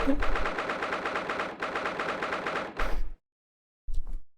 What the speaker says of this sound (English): Sounds like gunshots